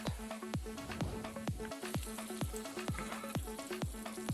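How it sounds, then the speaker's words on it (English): Chopped tomatoes fry with onions in a pan for Kolkata-style aloo dum, giving a steady close sizzle broken by a regular series of sharp clinks and scrapes from stirring, with no talking. "add your 3 small chopped tomatoes. Now fry for 5 minutes until the tomatoes become soft."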